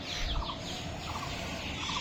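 Soft repeated cooing and fluttery calls from several pigeons in a loft close by, over a steady background hum.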